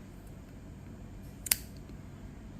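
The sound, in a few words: scissors cutting crochet yarn end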